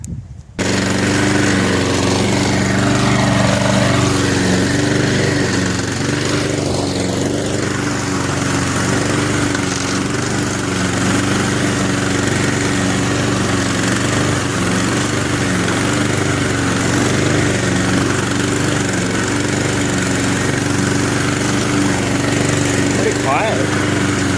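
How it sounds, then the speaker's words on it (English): A free secondhand Honda push lawn mower runs steadily while mowing near a gravel driveway, its engine a loud, constant drone with a continuous hum throughout. "All right, I'm gonna go mow with it a little bit."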